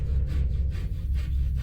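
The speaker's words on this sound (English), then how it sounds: "they also heard the sound of sawing. Somebody like sawing wood." Wood being sawn gives off a steady rhythmic rasp with several back-and-forth strokes over a heavy low rumble, continuous and fairly loud.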